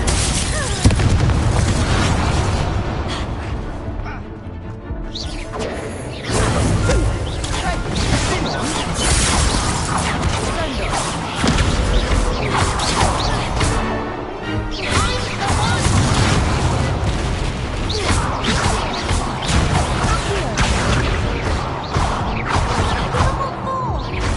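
A Confringo fire spell in Hogwarts Legacy sets off loud booming blasts and crashing bursts, with a swelling rumble running under in-game dialogue.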